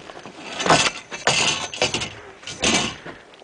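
Metal tripod tepee swing set being folded up, a few sharp metallic clanks and scrapes in quick irregular bursts, close and fairly loud.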